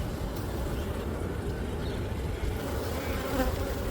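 Honey bees buzz in a dense, steady drone during a winter beehive inspection, the low hum filling the air close by without pause and with no voices.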